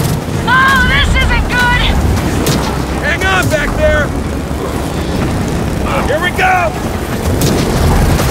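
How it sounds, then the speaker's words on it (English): A constant loud rush of rising wind and storm noise fills the scene in Gears of War 4, with bursts of distorted, warbling voice-like calls rising over the roar at intervals. "Wind's picking up."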